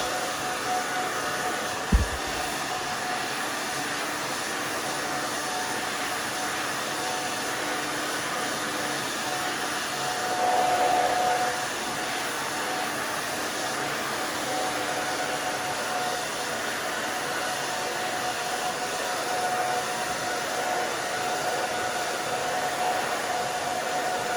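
A hair dryer blows steadily and loudly throughout while a short bob haircut is dried, with one brief knock near the start and a slight surge in airflow midway.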